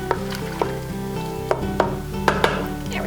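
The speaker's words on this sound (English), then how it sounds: "Let's give this another stir." Creamy rotini pasta with melting cream cheese is stirred in an Instant Pot, giving soft scraping strokes and several sharp utensil taps against the pot over a low simmering sizzle.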